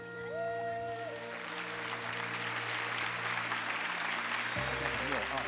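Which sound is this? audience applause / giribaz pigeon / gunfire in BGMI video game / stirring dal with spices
audience applause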